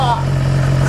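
A BMW S1000XR motorcycle engine catches and settles into a steady, close mid-pitched running note, starting loud, briefly dipping, then holding level.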